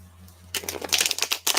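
Tarot cards being shuffled by hand, a sudden burst of close, crisp riffling and slapping after a quiet hum, with brief pauses between rapid flurries.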